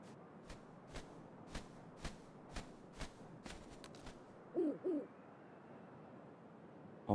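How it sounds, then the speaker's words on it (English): An owl in the game Link's Awakening gives a short double hoot, soft and clear, after a run of evenly spaced footstep-like taps, over a quiet background with no talking. "It's the owl."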